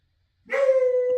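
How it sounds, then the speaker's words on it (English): A dog gives a single sharp bark at close range, a short loud yelp that rings out clearly after a moment of silence, with no talking around it. "let me go yell at the dog. Alright, I don't know what he's barking at."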